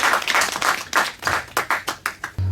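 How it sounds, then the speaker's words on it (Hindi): A studio audience applauds a young contestant on a quiz show with loud, steady clapping that breaks into a few separate claps before fading out. "एक बार जोरदार ताली हो जाए"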